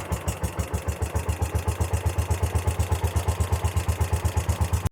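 A John Deere 140 garden tractor engine runs just after a choked cold start, with a loud, close, evenly pulsing chug that holds a steady rhythm until it cuts off abruptly.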